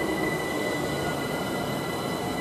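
A London Overground Class 378 electric train departs Imperial Wharf station, producing a loud, steady rolling rumble with a high whine and squealing wheels, heard close up without a break.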